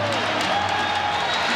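Standing ovation from an arena crowd at the United Center during the 1996 NBA Finals, a steady dense roar of applause and cheering, loud and continuous, with a commentator talking over it.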